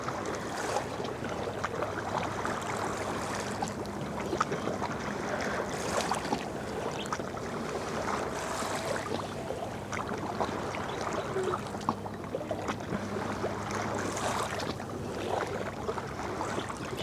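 Soft ocean waves wash in a steady, faint rush that carries on throughout, with no voices.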